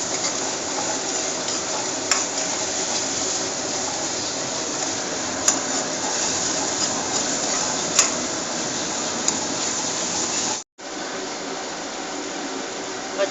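Ginger garlic paste frying with turmeric in a pan for a chicken curry, giving a loud, steady hiss with a few sharp clicks of stirring, cut off briefly near the end.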